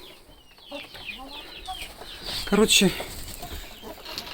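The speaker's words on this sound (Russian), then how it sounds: "Это моя ручная бройлериха" A broiler hen in a chicken coop gives short, soft clucks, close by, with someone speaking Russian over them.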